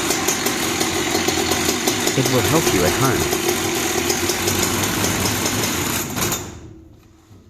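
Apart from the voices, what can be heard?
Husqvarna 365 chainsaw engine running after starting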